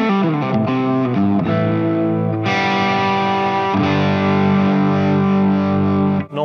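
Heavily distorted electric guitar through a preset on a Fender Tone Master Pro, played loud with sustained chords and bright, crunchy harmonics, a few quick notes at the start and a sudden stop near the end.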